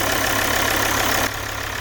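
Car engine idling steadily during a swirl flap leak test, a continuous close mechanical hum that drops slightly in level near the end, with no voices.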